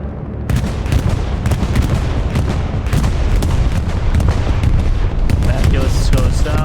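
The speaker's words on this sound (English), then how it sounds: "We do have an Axis bombing run coming on too, but from where it's gonna land, it's gonna kill Axis players only." Repeated explosions from a bombing run in the video game Hell Let Loose, a dense, continuous barrage of booms and blasts at steady loud level across the whole stretch, with sharp impacts layered over a rumbling low end.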